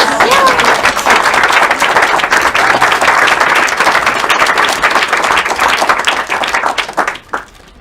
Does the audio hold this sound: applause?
yes